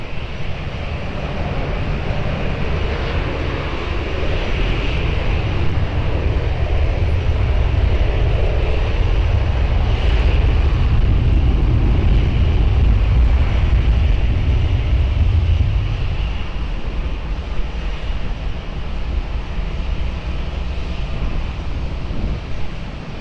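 A jet airliner takes off from runway 20 at Lisbon Airport, a loud sustained engine roar that swells and then gradually fades as it climbs away, with no voices.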